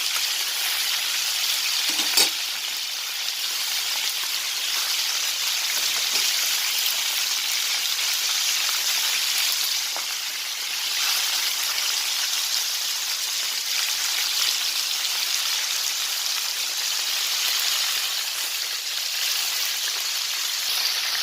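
Minced garlic hits hot oil in a pan on a gas stove, producing a loud, continuous bright sizzle that holds steady for the whole stretch, with a faint clink of a utensil early on and no talking.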